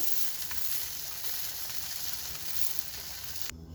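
Butter-toasted cheese vada pav, a Gujarati street food, sizzles steadily on a hot pan, a close, even frying hiss that cuts off abruptly near the end.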